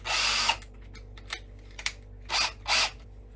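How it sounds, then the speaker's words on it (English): Power drill fitted with a countersinking bit cutting screw holes in wood for a DIY cat run, sounding as a sustained whir followed by two short bursts, with faint tool clicks between them. "Countersink these so that the screw sits flush."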